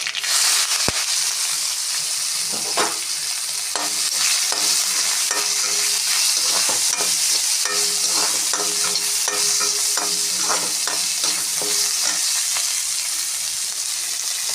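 Onion, mustard seeds and cinnamon sauté in oil in a pan, giving a steady broadband sizzle with repeated scrapes and stirring taps across the whole stretch, close and fairly loud, with no talking.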